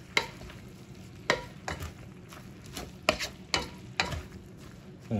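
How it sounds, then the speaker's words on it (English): Seasoned fried cabbage is stirred in a greasy pan, giving a series of sharp scraping clacks at irregular intervals over a soft, steady sizzle. "So once you add your seasonings to your cabbage, all you do now, just give it a stir."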